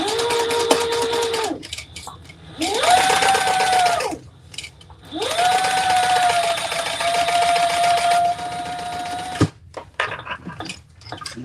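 A sewing machine stitches fabric in three close, steady runs of whirring motor hum, with short pauses between and light handling clicks after.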